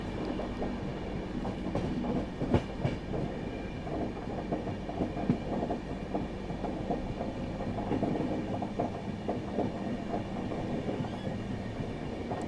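The Yoganagari Rishikesh–Ernakulam special train runs on a parallel track, heard from aboard another train as a steady rumble with clickety-clack wheel beats and occasional clanks, sustained and moderately loud.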